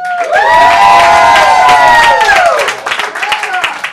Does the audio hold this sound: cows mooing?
no